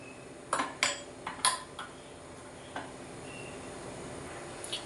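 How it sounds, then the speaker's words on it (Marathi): A metal lid set onto a cooking pot of fish curry gives several sharp clinks and clatters in quick succession, then a lighter tap or two against a quiet kitchen background. "आपण झाकण ठेवून घेऊया आता"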